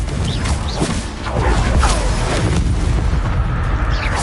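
Spell-casting explosion from the Hogwarts Legacy game on PS5, a fiery blast spell giving a loud, dense booming crash that swells and rumbles continuously for several seconds with crackling debris on top.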